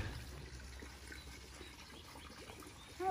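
Soft, steady trickling water from a garden water feature runs faintly throughout, with a brief bird chirp near the end.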